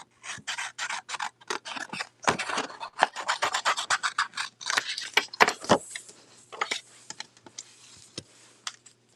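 Scissors snipping paper for a die-cut craft project, a long run of quick, close, crisp cuts in uneven bursts with short pauses and light rustling of paper between them.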